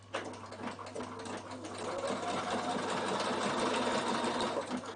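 A Bernina sewing machine stitches a fabric binding on a quilted casserole carrier, its steady fast needle rattle and motor hum running continuously and fairly close, with no talking.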